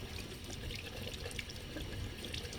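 Steady water running from a household sink tap, a continuous close hiss and splash with no talk over it.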